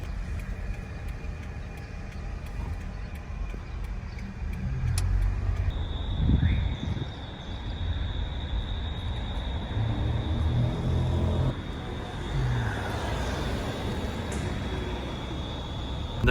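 A car drives through city streets where scattered street fires still smolder, its steady road and engine noise continuous throughout at moderate level, with no talking.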